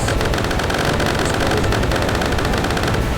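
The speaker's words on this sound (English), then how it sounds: "I'm going to just lob these rockets." Rockets fired from a vehicle in War Thunder make a loud, dense, crackling barrage that roars continuously without a break for the whole stretch.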